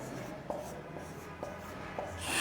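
A teacher writes on a board during a Bangla-medium class, making soft scratchy strokes with several distinct taps of the marker or chalk, close and fairly quiet against a low background hum.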